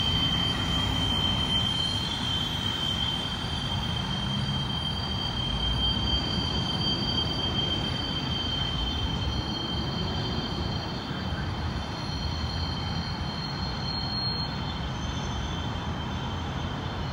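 A slow freight train rolls steadily around a sharp 90-degree curve, giving a continuous rumble of wheels and cars with thin, high wheel squeal running throughout. There is no talk.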